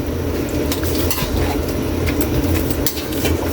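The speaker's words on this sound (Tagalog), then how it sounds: "At haluin muna natin yung Kaili." Octopus with soy sauce and oyster sauce is stirred in a pan. A utensil scrapes and clinks against the metal in irregular strokes over a steady sizzling rumble, close and fairly loud, without talk.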